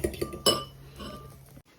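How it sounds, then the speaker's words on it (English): A fork clinks and scrapes against a bowl while whisking eggs, with a few sharp taps and light rattling strokes at close range. "whisk them up, and by whisk I'm just going to do it with a fork because I don't have a whisk"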